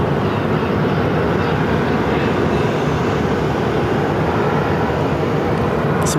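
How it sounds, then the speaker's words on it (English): An American Airlines A321neo airliner arriving at Phoenix airport, heard as a loud, steady broadband jet roar that holds evenly across the whole stretch with no voices. "This American Airlines A321neo just arrived from Miami."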